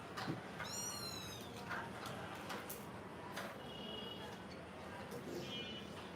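A small, high-pitched kitten meow rings out early, followed by faint squeaky mews and soft rustling in a quiet room during deworming.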